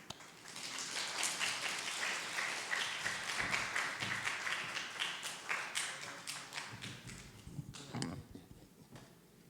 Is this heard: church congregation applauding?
yes